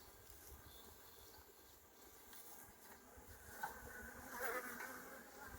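Honey bees from colonies that wintered outdoors buzz around an opened hive during an early-March inspection. A faint, continuous swarm hum rises slightly toward the end, with no voices.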